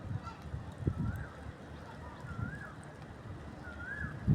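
Birds fly home at dusk, giving a few faint, distant honking calls spread across the passage over a quiet outdoor background, with occasional soft thumps of nearby handling noise.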